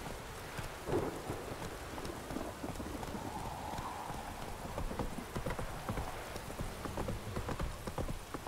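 Hooves clip-clop at a steady trot over a constant patter of rain, with a low rumble in the background, from the video game The Witcher 3: Wild Hunt.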